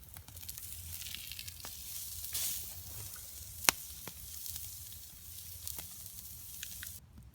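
A steak cooking over a winter campfire, a faint continuous sizzle and hiss with occasional sharp pops and crackles, heard close and alone without talk.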